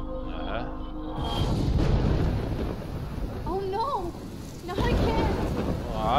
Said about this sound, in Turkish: Fırtınalı bir akşamda.